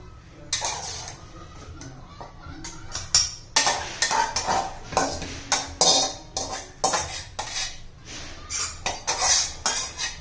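Cooked ridge gourd being crushed with chilli and garlic, repeated close clanking and pounding of a utensil against a pan or mortar in an uneven rhythm, fairly loud, without speech.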